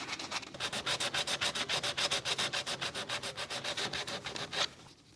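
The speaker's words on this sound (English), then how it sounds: "You can sand out 80 grit marks pretty quick and easy." Epoxy clay sculpture being sanded by hand with 80 grit sandpaper: a steady run of about twenty quick, rhythmic rasping strokes, close and fairly loud, stopping near the end.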